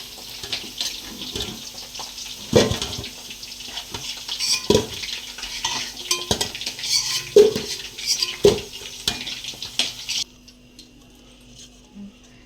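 Fried potatoes are lifted out of a hot pan into a dish, with scattered knocks and scrapes of a utensil over a steady oil sizzle that cuts off abruptly near the end, leaving quiet.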